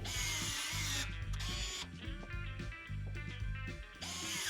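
A Klauke EKSD50ML battery-powered crimping and stripping tool runs in repeated short motor bursts of whirring, close and fairly quiet, with brief pauses between cycles.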